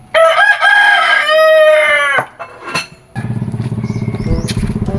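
A rooster gives one loud, close crow lasting about two seconds, then clucks briefly before a rattling engine idles in the background.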